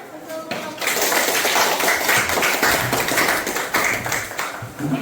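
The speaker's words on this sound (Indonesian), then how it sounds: "Oke, kita berikan tepuk tangan untuk kelompok." A group of participants claps for a small group at an Indonesian teacher coaching and academic-supervision session, dense scattered hand claps swelling in after a brief pause and continuing steadily at moderate loudness in a room.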